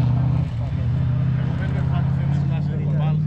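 A British rally car at the Rally Costa Daurada Legend 2023 drives past with a loud, sustained engine drone, while people talk over it nearby.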